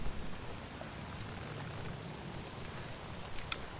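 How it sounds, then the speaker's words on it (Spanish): Soft, steady rainfall patter in a video game, with a quiet hiss and an occasional louder drop, no talking. "Porque quiero que se pase la lluvia ya."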